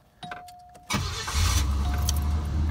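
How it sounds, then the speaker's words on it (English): A 1984 Cadillac Eldorado being started: a soft chime beeps, a few clicks and a starter crank follow, then the engine catches and settles into a loud, steady low idle. "Car starts right up."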